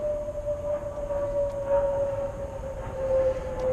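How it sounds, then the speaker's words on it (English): Steady airplane drone passing overhead outside a storefront during a lock rekey, a continuous rumbling hum with a sustained engine tone, moderately loud and alone. "Sorry about the plane going overhead."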